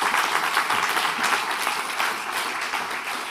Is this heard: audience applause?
yes